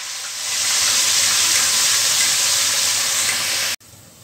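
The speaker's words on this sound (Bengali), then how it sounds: "এখন আমি মটরশুঁটিটা ভেজে নেব" Half a cup of green peas with a little salt fry in a pan with a steady, loud sizzling hiss that swells after a moment, holds, then cuts off abruptly near the end.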